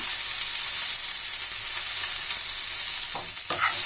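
Ginger, garlic, green chillies and coriander leaves fry in a pan with a steady, close sizzle that runs throughout, with a few faint stirring scrapes near the end.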